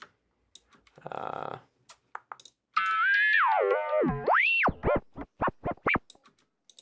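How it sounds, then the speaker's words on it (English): An Ableton Live frequency shifter effect warps tones into metallic, bending glides that sweep down and up, then break into short chirpy bursts after a brief noisy burst. "the frequency shifter, which normally just does really awful things to the sounds"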